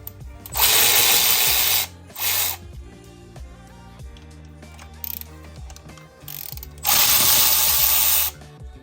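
Removing 12 mm bolts from the ignition coil bracket on a 1992 Mazda Miata brings close, loud bursts of ratcheting clicks, three separate runs of rapid pawl chatter with quieter mechanical fiddling and clunks between them.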